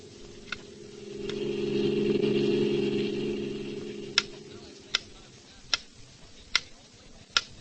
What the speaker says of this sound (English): A metronome, a small, precise time interval measuring instrument that most pianists use.